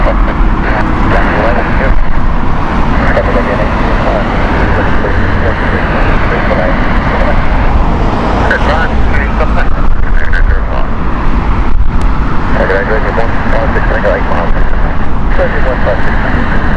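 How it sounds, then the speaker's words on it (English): A Virgin Boeing 787-9 arriving from Las Vegas at Heathrow Airport gives off a loud, continuous jet roar that stays steady across the whole stretch, with talk layered over it. "that is the 787 of Virgin with their Virgin 787-9 from Las Vegas"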